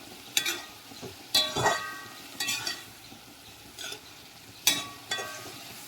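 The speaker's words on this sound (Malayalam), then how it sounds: "അപ്പോൾ നമുക്ക് ഒന്ന് ഇളക്കി കൊടുത്തുകൊണ്ടിരിക്കണം" Banana flower and banana stem curry stirred in a pan, a soft background sizzle punctuated by about half a dozen distinct scraping and clinking strokes of a spoon against the pan.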